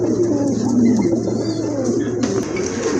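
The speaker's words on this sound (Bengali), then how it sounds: "কোয়ালিটি ফুল বোম্বাই কবুতর, ব্ল্যাক বোম্বাই কবুতর" Black Bombay pigeons, large birds kept for sale, coo softly amid a busy, continuous background murmur of a bird market or loft, with faint chirps and no clear speech.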